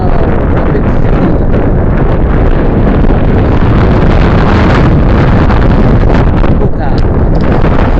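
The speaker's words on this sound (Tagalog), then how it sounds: "Very windy here." Very strong wind in Rapid City, South Dakota buffets the microphone with loud, constant roaring gusts across the whole stretch, while a voice speaks briefly underneath.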